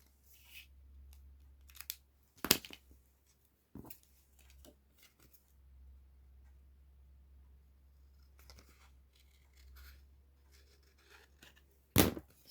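Scissors cutting a folded piece of paper for scrapbook tags: a few quiet, sharp snips spaced apart over a low steady hum, with faint rustling between them.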